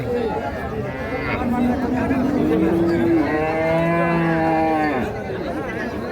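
A Friesian and crossbred cattle market, where a nearby bull gives a long, loud moo that rises and falls over crowd chatter and voices.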